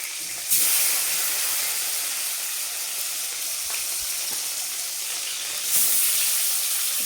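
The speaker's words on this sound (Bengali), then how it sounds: "আমি এখন মাছ ভাজবো বাটা মাছের ঝোল করব তো তাই মাছগুলো আমি এখন ভাজছি" Large bata fish fry in hot oil with a loud, continuous sizzle that starts abruptly and swells again near the end, alone with no talking.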